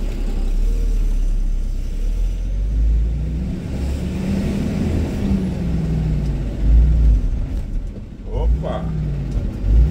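A car on a Brazilian highway lugs in too high a gear, its engine a low, strained rumble that swells and sags, close and steady, while someone speaks over it.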